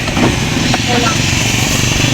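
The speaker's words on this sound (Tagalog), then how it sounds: "Nakasakay na kami ng tricycle." A small motorcycle-driven tricycle engine drones steadily throughout a passenger ride in Boracay, loud and close, with a low rumble and faint talk over it.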